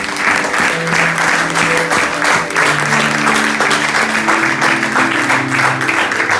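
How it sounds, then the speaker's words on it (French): A church congregation at a Sunday service claps loudly and continuously in praise, a dense wall of applause with sustained sung or shouted voices and music tones running underneath. "On acclame encore l'Éternel."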